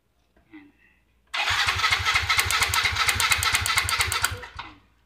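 A Yamaha Mio i 125 scooter with a no-start problem is cranked on its starter, giving a close, steady, rhythmic mechanical churn that lasts about three seconds before cutting off, with no talking.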